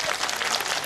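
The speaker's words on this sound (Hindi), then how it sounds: "ताली बजाओ।" An audience at a religious discourse gathering claps together in a dense, even burst of applause, brief and fairly loud.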